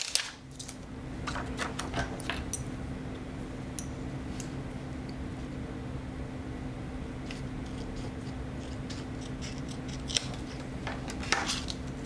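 Scissors snip through paper trimming the edge of a handmade shaker bookmark, giving a few quiet, scattered crisp cuts against a soft background hum.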